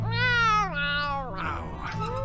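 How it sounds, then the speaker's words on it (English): A cartoon cat yowls in a long, loud meow with a falling pitch, then a second drawn-out cry that breaks into a strained caterwaul, close and clear with no talking. "Azrael, his supposedly loyal cat, clearly holds more brain cells than its owner"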